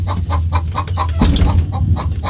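Backyard chickens clucking close by in a rhythmic run of short repeated clucks over a steady low background hum, with no talking.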